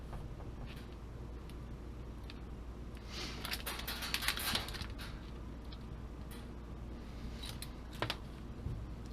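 Christmas light wire being cut and stripped, with small close snips and clicks scattered over a quiet background and a denser cluster of crisp cuts in the middle.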